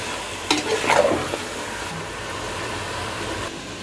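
Chicken pieces and onions frying in oil for chicken tahari, a soft steady sizzle with a brief stirring scrape near the start, no talk.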